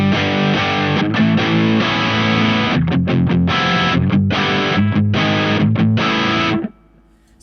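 An electric guitar played through an MXR Power 50 overdrive pedal with all switches off gives straight distortion: loud, thick sustained chords with rhythmic choppy stops, ending abruptly into near silence.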